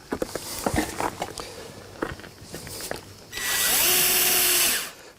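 Ceramic terrace slabs are laid on a metal support frame with taps and knocks, then a power drill drives a screw into a spacer in one loud, steady whir of about two seconds.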